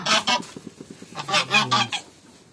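Geese kept in a backyard poultry pen honk loudly and close by in a quick series of nasal calls, with no voices.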